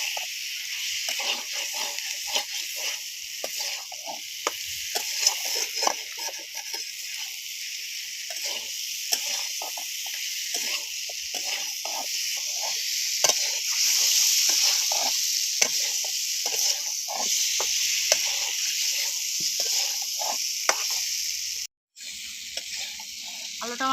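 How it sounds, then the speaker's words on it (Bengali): Bata fish with green tomato and potato is stir-fried in a pan, with a constant loud sizzle and a busy run of spatula scrapes and taps throughout, then a brief dropout near the end. "দিয়ে ভালো করে কষিয়ে নেবো"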